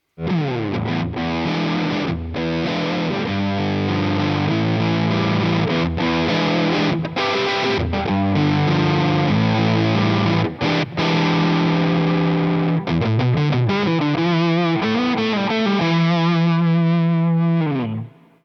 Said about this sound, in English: I'm going to put some fuzz in the signal chain